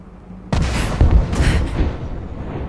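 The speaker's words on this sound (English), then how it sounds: "Well, there was a small explosion." A sudden explosion erupts in Rise of the Tomb Raider, a sharp onset followed by a rumbling boom and crackling debris that swells briefly and then tails off into a sustained roar.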